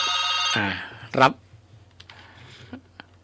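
A telephone's electronic ringtone chimes loudly at the start during a Thai Buddhist monk's dharma talk program, followed by sharp clicks and quieter handling sounds.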